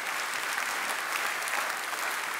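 Audience applauding the Favre family at a local heritage screening in Pays-d'Enhaut, steady dense clapping from many hands filling the whole stretch.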